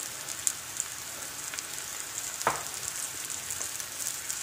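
Mutton sizzles in hot ghee for a ghee roast, a steady faint crackling hiss with a few sharper pops and spatters scattered through it.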